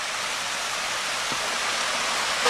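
A river runs close by near a waterfall, a steady broad rushing wash of water with no talk over it.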